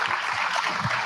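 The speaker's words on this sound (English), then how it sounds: "Big round of applause for these guys." A conference audience applauds a marketing trends panel, a dense, continuous wash of clapping from many hands at moderate distance, without talk.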